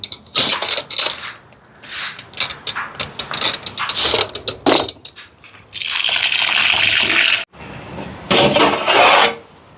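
Rice being washed in water for a large charity meal: gritty rubbing and swishing strokes, followed by a sustained loud rush of pouring water and a brief gush.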